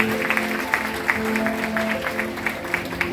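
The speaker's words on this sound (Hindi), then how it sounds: "तालियों के साथ उनका स्वागत करेंगे।" A crowd at a birthday celebration event in Surat claps to welcome a guest, steady applause mixed with sustained music tones and some sharper individual claps standing out.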